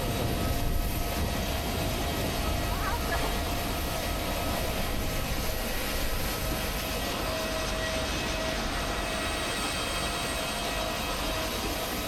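Inside an airliner before takeoff, a steady, loud engine drone and cabin hum fill the space without pause, with no voices.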